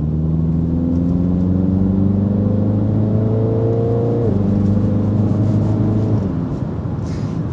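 A 2020 Mini John Cooper Works Countryman All4 engine accelerates hard, loud and close, its tone climbing steadily through the gears with two brief shift dips, a continuous strong roar with no talk over it.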